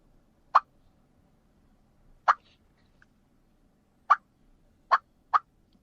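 Five short, sharp clucks imitating a wild turkey hen, made on a call, arrive in irregular spacing with the last two close together, each crisp and distinct against near silence.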